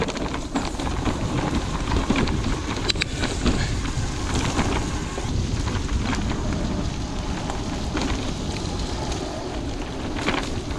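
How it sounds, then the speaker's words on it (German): Steady rain falls throughout during a cycling tour on the Bergischer Panorama-Radweg, a dense, even hiss with scattered drop taps and occasional gusty rumble, close and continuous with no talk. "es hört nicht auf zu regnen"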